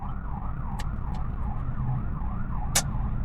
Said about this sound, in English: So there's an ambulance up there